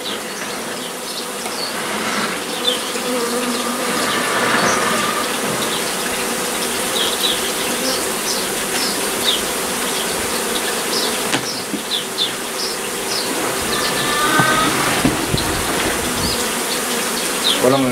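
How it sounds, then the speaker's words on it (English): A dense, continuous buzzing of many honeybees close by during the cutout of a colony from a possum box, droning steadily throughout with small bursts of nearby wingbeats. "there are lots, lots and lots of bees here"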